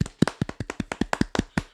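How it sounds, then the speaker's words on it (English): A short burst of quick, even hand claps, about a dozen sharp slaps in steady rhythm, close and alone, like a single person applauding. "Just a round of applause for how great that was."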